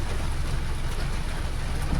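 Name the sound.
continuous rain falling in Guwahati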